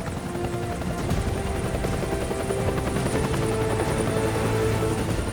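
A helicopter departing in Afghanistan gives off a loud, continuous rotor thrum with a steady whine that holds level and close for the whole stretch, with no voices over it.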